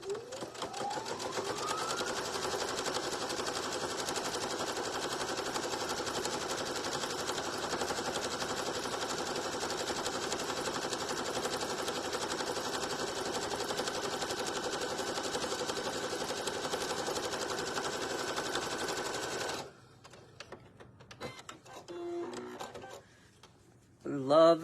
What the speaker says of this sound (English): If you're wondering what kind of machine I have a Brother. It is a combo sewing and embroidery machine.